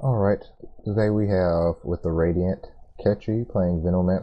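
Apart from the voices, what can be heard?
None of the usual background noises is heard.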